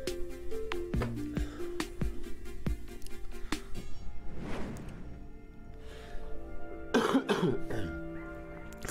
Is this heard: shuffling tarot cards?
no